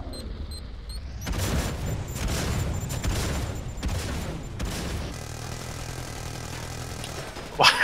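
Gunfire in Killing Floor 2 on the Bikini Atoll map, a loud dense burst of rapid shots and booming impacts lasting a few seconds, then easing into a steadier rumble with a sharp final crack, with no talk.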